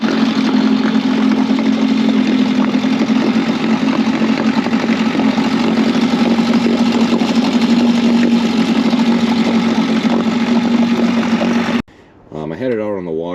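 A 1984 Mercury 9.8 outboard boat motor drones steadily at close range for about twelve seconds, then cuts out abruptly, leaving a brief different sound at the end.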